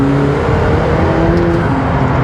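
McLaren 720S sports car cruising on a bumpy road, its engine giving a steady, continuous drone with road and tyre rumble, no voices over it.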